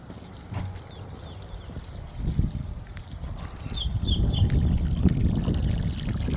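Water splashes and trickles steadily from an electric water heater's drain valve, growing slightly louder, with faint birdsong chirps in the background.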